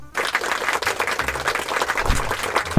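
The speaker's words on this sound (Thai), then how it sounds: "ปรบมือ" Applause from an online gaming stream audience, a dense steady patter of many clapping hands running loud and close throughout, alone without talk.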